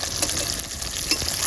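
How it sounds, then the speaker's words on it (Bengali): Fish frying in a pan gives a loud, dense, continuous crackling sizzle, close up and steady throughout. "আর এখানে আমাদের মাছ ভাজা চলছে"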